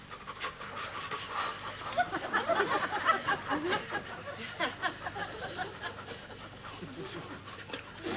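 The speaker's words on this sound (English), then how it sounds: "Rapid breathing during childbirth helps to ease the pain." A person pants rapidly in short repeated breaths, the kind of breathing practised for childbirth, with voices and laughter mixing in throughout.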